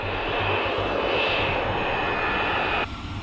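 An aircraft, callsign Giant 6972, on approach gives a steady, loud engine roar with a high whine. The roar holds for about three seconds and then drops off abruptly.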